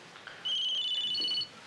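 A telephone in a home rings once with a short electronic trill, fairly faint and with nothing else over it.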